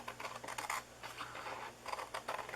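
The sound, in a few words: large scissors cutting paper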